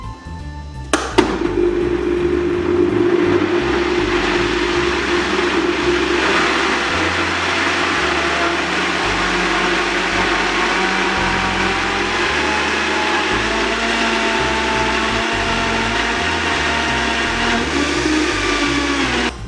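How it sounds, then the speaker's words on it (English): Blender whirring steadily as it purées chocolate ice cream ingredients, a loud continuous motor drone with a sharp start and slight pitch shifts as the load changes, running alone throughout. "we have everything in the blender and we are going to be blending away"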